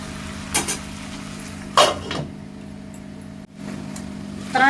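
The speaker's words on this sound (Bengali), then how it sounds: "আলুগুলো এর মধ্যে দিয়ে দেওয়ার পর ভালো করে নাড়াচাড়া করে নিলাম।" Potatoes being stirred into Bengali chicken kosha in a pan, giving a few scraping, clattering utensil strokes against the pan over a steady low hum, with brief louder scrapes spaced across the stretch.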